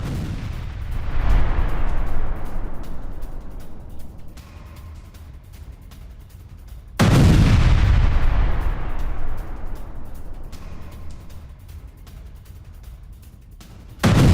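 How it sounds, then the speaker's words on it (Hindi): A US air strike hits ISIS sites in Somalia: two heavy, loud booms roughly seven seconds apart, each trailing off into a long rolling rumble. "वहां पर अमेरिका ने एयर स्ट्राइक की है और कई ठिकानों को ध्वस्त किया है"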